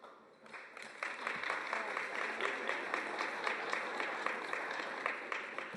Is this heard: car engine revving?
no